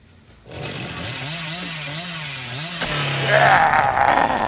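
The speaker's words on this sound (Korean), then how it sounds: "우와 이거 전기톱 한방 지리는데요?" A revving chainsaw in the horror game Dead by Daylight roars steadily with a wavering engine pitch, then rises to a harsher, louder grinding surge as the hit lands.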